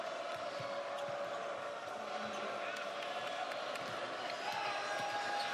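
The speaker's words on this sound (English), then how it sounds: "Cheering for him to shoot another one" A college basketball crowd at a Maryland vs Wisconsin men's game keeps up a steady, loud roar of cheering, swelling slightly near the end, with occasional sharp knocks in the mix.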